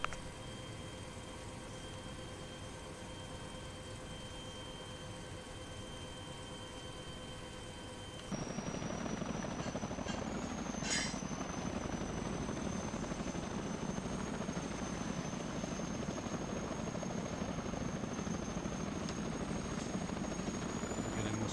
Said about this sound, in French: Regardez-moi ce bel hélico.